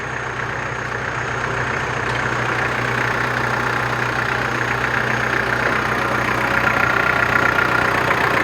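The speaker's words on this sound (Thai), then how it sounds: "มีสตาร์ทเครื่องยนต์เลยนะครับ" A Mitsubishi Strada 2.8 pickup truck's diesel engine idles steadily with a low, even rumble and faint rattle, continuous throughout and close by, with no voices.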